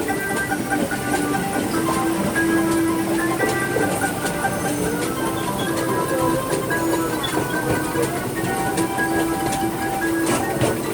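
A Disneyland Railroad passenger car rolls along behind the Fred Gurley steam locomotive, with a steady rumble, clickety-clack of wheels on rail joints and occasional squeals, continuous and close throughout.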